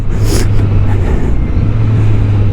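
A 2024 Suzuki GSX-S1000GT motorcycle being ridden, with a steady low engine drone and road and wind rush throughout, and a brief brighter burst of noise near the start.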